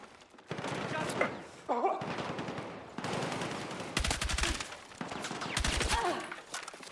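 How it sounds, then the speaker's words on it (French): Gunfire in the Battlefield 6 video game: repeated bursts of rapid automatic shots, loud and close, mixed with sporadic single cracks and surrounding battle noise, with a voice talking at times. "C'est moi, j'ai tiré 2 balles dans le mur. Le mur il a explosé."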